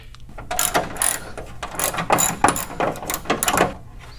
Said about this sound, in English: Go ahead and take our 10mm and work on getting all 6 bolts out